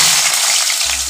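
Potatoes hit hot mustard oil in a wok with fenugreek seeds for a Malabar spinach dish. A loud, close, dense sizzling hiss fills the whole brief moment.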